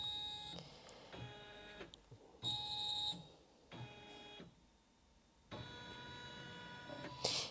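A Janome Atelier 9 sewing and embroidery machine traces a box outline for a flower design, giving mechanical whirring and stepping bursts with steady tonal motor whine, stopping and restarting several times, close and fairly quiet, with no talk.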